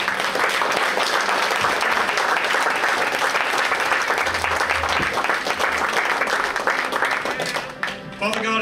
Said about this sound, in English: I want to give the Lord a hand clap of praise.